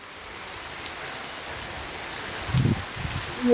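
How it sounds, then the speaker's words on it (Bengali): Heavy rain hisses steadily as a dense, even wash of sound that swells slightly toward the end, with a few faint, brief knocks over it. "প্রচুর বৃষ্টি প্রচুর বৃষ্টি"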